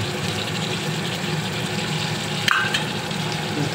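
Ground onion frying in a pan after ginger and garlic, a steady dense sizzle with a low rumbling hum beneath and one sharp clink partway through.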